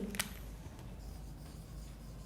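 A marker or chalk scrapes across a board in a short, sharp stroke near the start, then fainter rubbing continues against a steady low background hum, with no voice.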